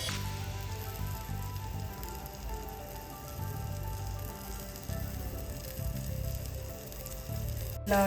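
Butter sizzles steadily in a hot pan as taco shells fry over a low flame, a continuous close crackle with a low hum beneath it and no voices.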